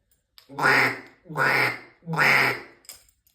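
Three loud, evenly spaced quacks are blown on a duck call, each a raspy drawn-out note, imitating a duck.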